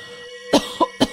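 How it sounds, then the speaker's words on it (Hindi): A sick woman coughing at night, three short harsh coughs in close succession after a moment of quiet, close and fairly loud. "उसे खांसी उठती है"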